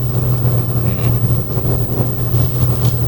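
A Suzuki Vitara Brezza engine drones while the car drives in third gear, a loud, steady low hum with a little road and wind noise, and no voices.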